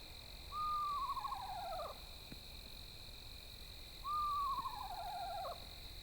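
Owl giving two drawn-out descending hoots, several seconds apart, moderately clear against a quiet night background with a steady faint hum.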